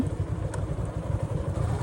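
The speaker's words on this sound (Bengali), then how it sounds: "বাইক পার্ক হয়ে গেল" A motorcycle engine idles with a steady low rumble throughout, a brief clatter partway through, no talking.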